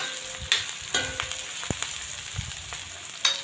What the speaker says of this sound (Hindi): आलू डालने के बाद अच्छे से हिला देंगे